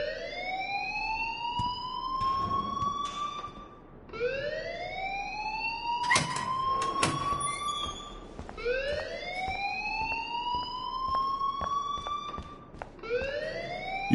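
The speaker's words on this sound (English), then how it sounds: "please turn off that alarm since that's your job" A video game alarm wails in rising, siren-like sweeps that repeat about every four seconds, loud and continuous, with a few clanks between sweeps and no talking.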